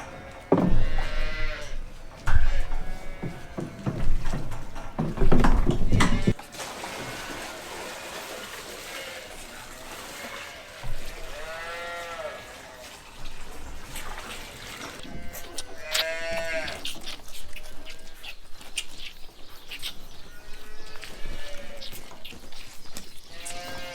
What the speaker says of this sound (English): So I'm just feeding these calves.